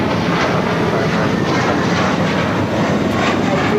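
An airliner on a flight to Newark at LAX, a loud, continuous jet engine roar heard up close and steady throughout, with no clear talk.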